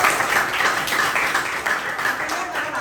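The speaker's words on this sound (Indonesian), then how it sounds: "Tepuk tangan." Classroom students clap together for a classmate's correct answer during a science lesson, a steady patter of hands lasting about three seconds at moderate volume.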